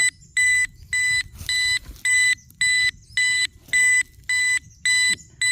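Rapid, high-pitched electronic beeping from a metal detector in regular bursts, about two per second, with a low rumble and faint voices underneath.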